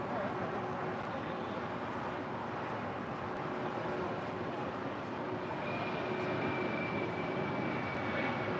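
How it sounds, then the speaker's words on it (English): A United Airlines jet departs LAX, its engine roar steady and distant in a broad, even wash of sound, with a faint voice underneath. "This is United Airlines flight 644 departing to Houston Intercontinental"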